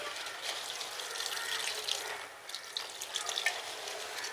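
Diluted boiled tea-leaf water is poured onto a syngonium plant, making a soft, continuous splashing trickle with a few small drips, fairly quiet and close.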